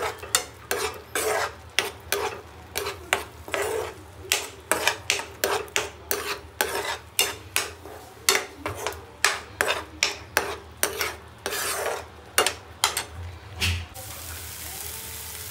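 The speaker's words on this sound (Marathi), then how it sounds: "आता त्याच्यामध्ये तेल सुटू वेगळं होईपर्यंत आपण ते मिक्स करू" A spoon scrapes rhythmically through masala paste frying in oil on a flat tava for anda tava masala, with steady repeated strokes and a soft sizzle underneath, close and fairly loud, no talking.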